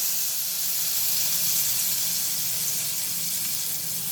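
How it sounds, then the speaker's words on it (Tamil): Fried tempering being poured into sundakkai vathal kuzhambu gives off a steady, loud, hissing sizzle that runs unbroken for about four seconds, with no talk over it. "இப்படி பொறிஞ்ச உடனே அப்படியே எடுத்து இந்த குழம்புல ஊற்றிக்கலாம்"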